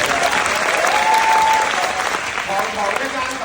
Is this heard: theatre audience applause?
yes